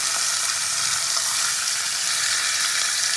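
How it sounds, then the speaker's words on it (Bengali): Katla fish pieces frying in hot oil, a loud, steady, dense sizzle that fills the whole stretch without a break and is heard alone, with no voices. "তাই মাছগুলোকে উল্টে পাল্টে খুব ভালো করে ভেজে নেবো।"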